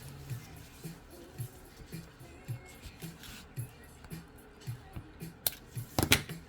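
Small sharp scissors trim twisted ribbon for a beaded bag tag, a faint close series of crisp snips in an uneven rhythm, ending with a few louder clicks.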